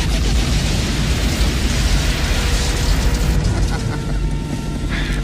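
A missile explosion in a war action film set near a canyon rim, a loud sustained roaring blast with rumbling debris that fades slightly toward the end, amid aircraft noise.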